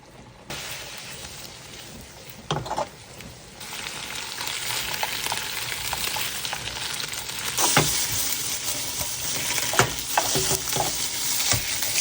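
Wieners cooking in a pan with just water, a steady close sizzle and hiss of evaporating water running throughout with occasional sharper crackles and stirring knocks.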